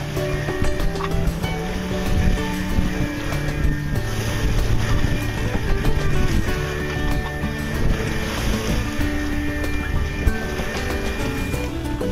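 A sailboat moves through three-foot waves in a freshening wind, a steady rushing wash of water against the hull with constant wind noise, close and fairly loud, without speech.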